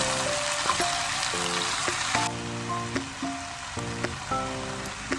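Bitter gourd (karela) fries with turmeric in a pan, giving a steady close sizzle and hiss, with light tonal background sounds layered over it.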